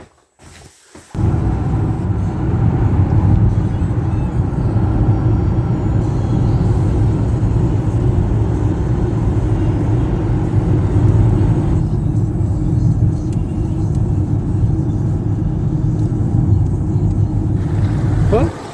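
A car drives along, heard from inside the cabin as a loud, steady engine and road rumble that runs almost without a break after a short quiet start.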